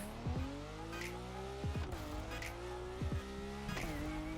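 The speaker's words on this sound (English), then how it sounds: "we're on wheels, so we can turn much better in a drag car" A drag car in a racing video game pulls away with repeated tire squeals over a droning engine note that rises and shifts through gears, several sharp chirps across a few seconds, no talk.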